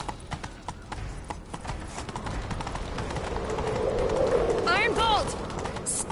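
Galloping horse hooves in The Witcher 3: Wild Hunt, a steady clip-clop rhythm running throughout at moderate level, with a brief chirping sound near the end.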